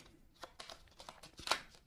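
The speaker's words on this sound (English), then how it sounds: "And then we give it a good shuffle." A deck of game cards for a HeroQuest board game is shuffled, giving a few quiet, quick papery riffles and flicks with a brief sharper snap near the end.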